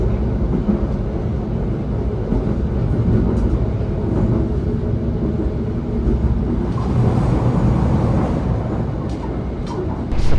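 Ambarawa Express passenger train with Mark F carriages running along the line, a steady continuous low rumble and rattle of wheels and car bodies throughout, loud and close from on board, with no voices.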